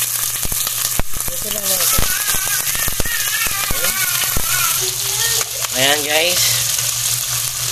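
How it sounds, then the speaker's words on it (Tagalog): Salmon belly frying in a pan, a dense steady sizzle with sharp pops and crackles, close up, while a person talks over it. "piniprito na natin"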